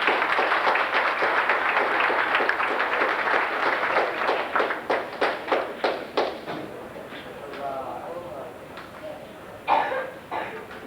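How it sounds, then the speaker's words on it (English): Audience applause at an FFA meeting, steady clapping from a crowd that thins into scattered claps and fades out, with a cough and faint murmuring near the end. "I'd like to give them a round of applause for that accomplishment."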